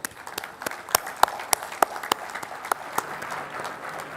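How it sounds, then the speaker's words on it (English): An audience at the Bharat Asmita National Awards 2017 ceremony applauds, sharp, evenly spaced claps standing out over a steady bed of crowd clapping. "let's give them collectively a huge, huge round of applause"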